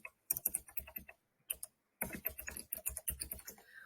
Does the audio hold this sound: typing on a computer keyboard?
yes